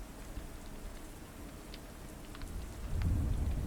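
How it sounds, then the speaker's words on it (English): Rain pattering on windows in a VR Chat world, a soft steady hiss of drops with a low rumble that grows fuller near the end, no voices. "you gotta love the rain and the effect that is on the windows"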